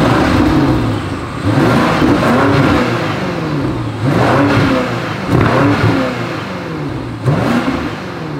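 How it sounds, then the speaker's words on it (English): A 2024 BMW X7 M60i SUV's exhaust revs loudly up and down in repeated cycles, each blip rising sharply then falling back to a deep idle, close by and with no talk. "As always, here is that exhaust clip."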